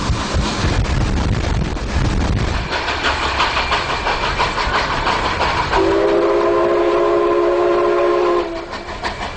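A Mikado steam locomotive train runs close by with rolling, rumbling clatter throughout, then a loud sustained steam whistle blast sounds near the end.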